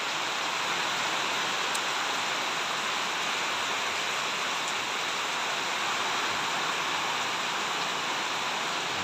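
Rain falling heavily and steadily in Camarines Norte during a typhoon, a loud, dense, unbroken hiss that fills the whole stretch with no voices.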